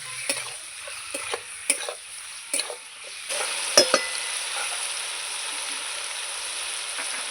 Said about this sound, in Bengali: মুরগির মাংসটা দিয়ে দিলাম এবার একটু নেড়ে ছেড়ে পরপর আমি মশলাগুলো দিয়ে দেবো